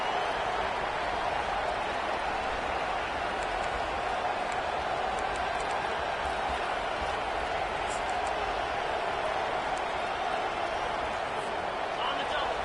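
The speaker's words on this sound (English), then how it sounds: "This crowd trying to make life miserable for this offense." Dense, steady football stadium crowd roar during a game, a broad continuous wash of many voices and noise holding at constant loudness throughout, with no distinct individual sounds standing out.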